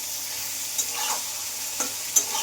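Soybean chunks and green peas tossed into a hot frying pan for a vegetarian soybean dish give a steady sizzle, with a few sharp stirring knocks from a utensil against the pan.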